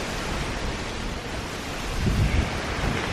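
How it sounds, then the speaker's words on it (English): Steady broadband roar of strong wind buffeting the microphone outdoors, swelling louder and gustier toward the end, with no voices. "it's so windy"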